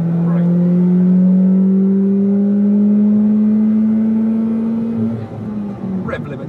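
A car engine climbs steadily in pitch under hard acceleration, held loud and close inside the cabin during winter driving on summer sports tires, then drops off abruptly near the end as the revs fall.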